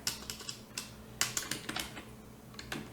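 Keys tapped on a computer keyboard at a desk, irregular clicks in short bursts with small gaps, close and fairly crisp, with no voices.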